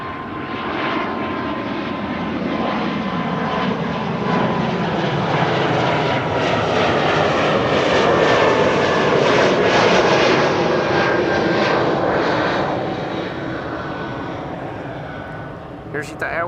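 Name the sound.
ITA Airways Bombardier C Series 100 jet aircraft at Schiphol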